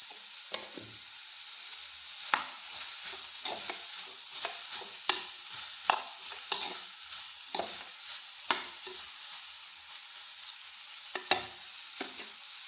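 Bitter gourd with salt fries in oil with no water added, a steady close sizzle under frequent scraping stir strokes and light clinks, no voices.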